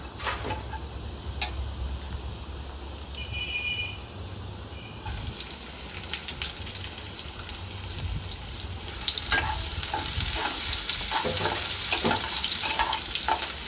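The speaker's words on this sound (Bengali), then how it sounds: "আর যাচ্ছে মাঝারি সাইজের একটা পেঁয়াজ কুচি।" Medium-sized chopped onion with garlic and black cumin frying in a pan for a masoor dal dish, making a continuous close hissing sizzle that swells louder in the second half, with light clinks of stirring.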